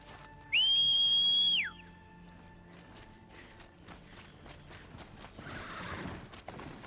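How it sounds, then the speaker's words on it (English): A rising whistle summons a Strider machine mount in the video game Horizon, followed by soft hoof clip-clops and snorts as the mechanical horse runs alongside, quieter under game ambience. "I love that this Strider will actually like run alongside me if I whistle for it."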